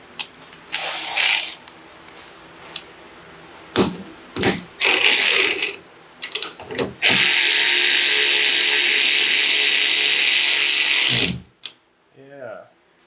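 Ratchet wrench tightening the bolts of a SARD wing mount on an ND Miata, first in short clicking bursts, then a long fast continuous ratcheting run, close and loud, with someone talking in between.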